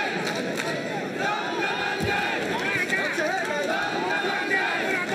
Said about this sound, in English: Crowd pretty lively here.